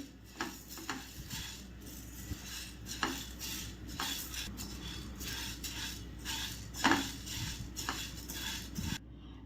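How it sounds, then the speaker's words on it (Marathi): Green mung beans are dry-roasted in a kadhai over medium heat, producing a continuous close rattle and scrape as a spatula stirs the beans against the metal, with periodic louder knocks and no talk. "मी इथे कढईमध्ये मूग टाकून घेतले आहे मूग आपल्याला व्यवस्थित असे भाजून घ्यायचे आहे"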